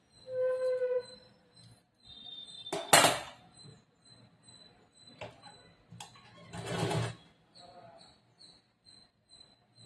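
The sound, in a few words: sewing machine stitching a blouse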